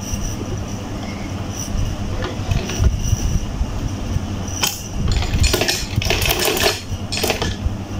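A sewing machine stitches a Quran cover with a steady, loud mechanical whirr, and rattling clattery bursts toward the end.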